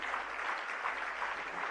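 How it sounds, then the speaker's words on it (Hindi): Audience clapping at a Jain religious gathering in India, a dense steady wash of applause filling the short stretch with no speech over it. "जरा जोरदार तालियां।"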